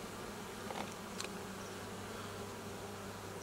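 Honeybees buzz around a hive while being fed, a faint, continuous hum with a few nearer passes standing out, and no talking.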